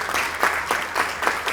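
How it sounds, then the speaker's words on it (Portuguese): Brief rhythmic clapping from an audience at an academic summer school lecture event, moderately loud with distinct individual claps. "Recebamos também com uma forte salva de palmas"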